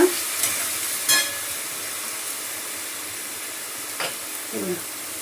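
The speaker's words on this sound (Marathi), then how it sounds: "परतून घेते आणि ही भाजी परतते तोपर्यंत" Salted greens sauté in a pan with a steady soft sizzle and hiss, broken by a few faint stirring scrapes and clinks, close and even throughout.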